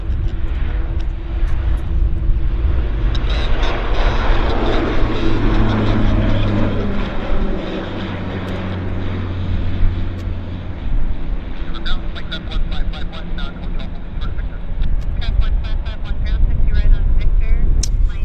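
An Air Canada Jazz aircraft at Vancouver Airport gives a loud, sustained engine and propeller drone that swells and fades, with a voice talking over it.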